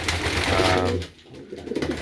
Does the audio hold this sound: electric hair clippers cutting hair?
no